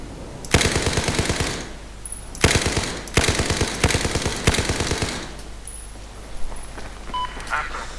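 Heavy automatic gunfire in the Battlefield 4 video game comes in several rapid, loud bursts of rattling shots separated by short pauses, followed by quieter scattered shots and electronic beeps.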